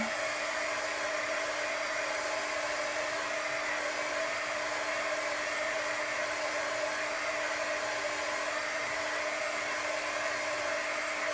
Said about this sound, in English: This happens to be a little heat gun for embossing that I use too.